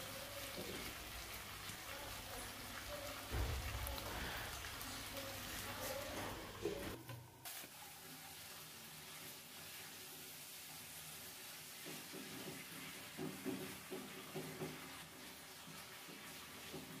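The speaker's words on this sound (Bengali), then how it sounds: "তো এরকম করে কষিয়ে নিচ্ছি যতক্ষণ একেবারে তেল ছেড়ে না দিবে" Chicken curry meat fries in oil in a pan, a soft, steady sizzle and hiss that runs throughout at low volume, with a voice heard faintly early on.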